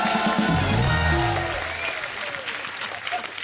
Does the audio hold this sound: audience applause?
yes